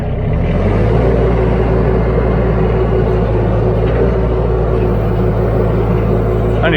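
A power buggy engine runs under throttle, a loud continuous close-up rumble with a steady droning tone that holds throughout.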